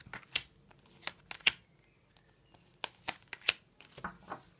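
Tarot cards being shuffled and drawn, a series of short crisp flicks and slaps of card stock at close range, spaced irregularly with quiet gaps between them.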